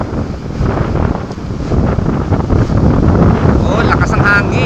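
Strong wind buffets the microphone outdoors beside a river, a loud steady rumble that never lets up, with a voice speaking faintly beneath the gusts.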